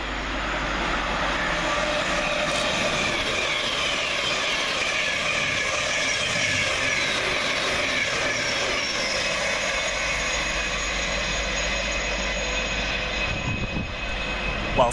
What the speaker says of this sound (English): Through the middle for Govia Thameslink is 700-155, working 9 Sierra 31 from Cambridge to Brighton.